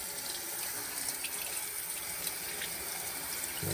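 A kitchen tap runs in a steady, close hiss of water while poblano chilies are rinsed of their seeds, with faint irregular splashes and no talking.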